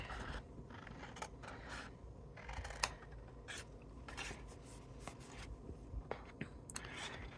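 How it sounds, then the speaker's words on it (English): Scissors cut through card stock for a paper-pieced flower card, with a card used as the cutting guide. Faint, steady rasping snips and rubbing sound up close. "then get my scissors and just use my card as the guide"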